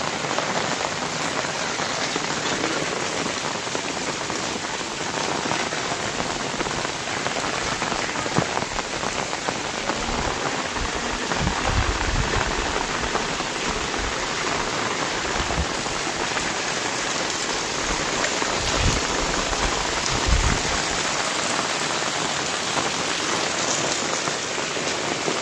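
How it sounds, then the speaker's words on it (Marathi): Heavy rain pours near a temple area in Jadhavwadi, Chhatrapati Sambhajinagar, making a dense, continuous hiss of drops striking surfaces and water, loud and unbroken throughout with no talking. "हा खूप पाऊस पडू लागलेला आहे"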